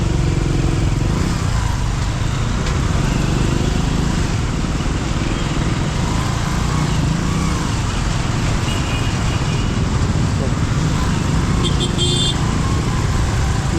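A motorbike rides along a road between Shirdi and Pune, its engine droning loud and constant with heavy wind rumble throughout, close to the microphone.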